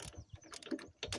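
Ratchet clicking in short bursts while tightening or releasing bolts on a Yamaha Big Bear 250 ATV, fairly quiet with brief pauses between strokes.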